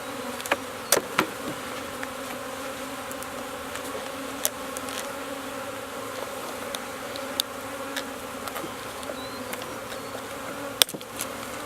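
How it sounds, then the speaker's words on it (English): Honey bees from a newly installed package swarm over a small queen cage, giving a steady close buzz with scattered sharp clicks and taps and no talking. "See, the bees, that's how they get acclimated to the queen."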